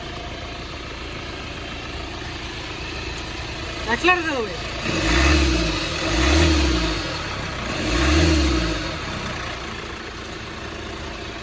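A 2015 Hyundai Creta SX+ automatic starts with a short crank, settles into an idle, then revs three times in slow swells, close by, with a brief spoken remark.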